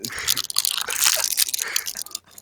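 Jolly Rancher hard candy wrapper crinkling as it is opened, then close, loud crunching and biting of the candy in a quick, irregular burst, with no talking.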